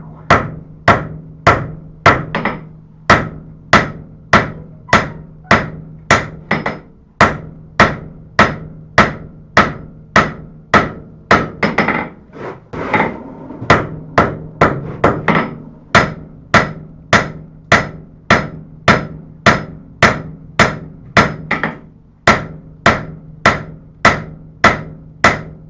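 A hammer strikes hot steel on an anvil while a knife preform is forged to a taper: a long, steady run of sharp, ringing blows close by, with a brief pause partway through.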